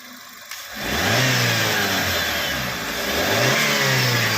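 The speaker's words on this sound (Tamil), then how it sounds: "இன்ஜின் இப்போ வண்டி ரன்னிங்கில் இருக்குது." Engine of a 2024 Maruti Suzuki Eeco van running with the hand brake down, starting up and then revving loud and close in two rising and falling surges, with no talk.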